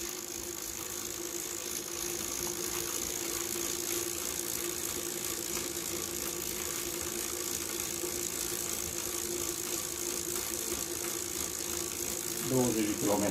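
A JetBlack VOLT electric scooter rides at about 20 km/h, giving a steady, continuous motor whine with road and rattle noise that stays level throughout, and a brief shift in the sound near the end.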